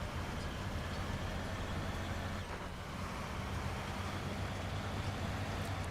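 A Kenworth 963 truck in SnowRunner drones with a steady, low engine rumble, faint and unbroken with no other sounds on top.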